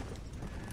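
Horse hooves clip-clop steadily and fairly loudly in the Red Dead Redemption: Undead Nightmare video game, set against a constant dense layer of game ambience.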